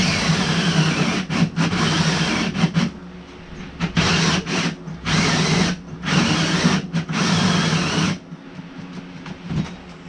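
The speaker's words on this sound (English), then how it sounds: "These hole saws kill these drills." Cordless drill fitted with a hole saw cuts through wood in an abandoned cabin under renovation, whining in repeated bursts with short pauses between, loud and close, the motor bogging as the battery runs down.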